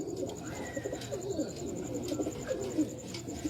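Pigeons coo in soft, repeated low rounded calls close by, several birds overlapping in a steady murmur with faint chirps and no talk.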